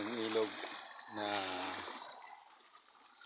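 River in a clean forest setting flowing with a soft, steady rush of water, fairly close, running under a man's speech and continuing alone afterward.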